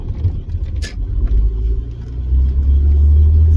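An Acura CL Type S with a worn clutch drives along, its engine a loud low rumble that swells and deepens toward the end, heard from inside the car.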